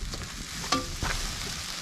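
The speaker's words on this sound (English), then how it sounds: "Yeah, hear that sizzle in there?" Grilled ham and cheese sizzles on a rocket stove at a tent campsite, a soft steady hiss broken by a couple of brief scraping clicks, with no talking.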